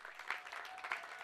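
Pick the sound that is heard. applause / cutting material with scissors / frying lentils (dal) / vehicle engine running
applause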